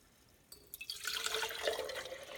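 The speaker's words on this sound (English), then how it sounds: "Hot tap water right into the jars." Hot tap water pours from a sink faucet into jars, starting with a few splashy drips before settling into a steady hissing, splashing stream, fairly close and with no talk.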